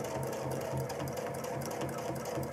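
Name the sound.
sewing machine free motion quilting clamshells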